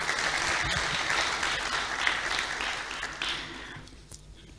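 An audience at a ThinkFest talk applauds a guest author with steady, dense clapping that holds throughout and then thins out near the end.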